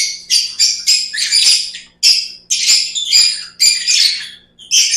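Opaline lovebirds chirp loudly and close by in quick, overlapping bursts of bright, squeaky calls that keep going without a break.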